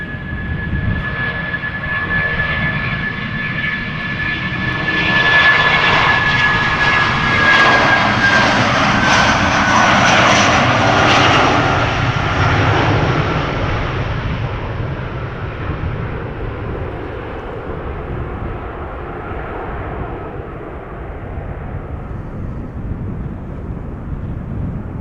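An Airbus A319 jet takes off from Schiphol bound for London Heathrow, its engine roar swelling to a loud peak with a whining tone midway, then fading steadily into a distant rumble, and no voices.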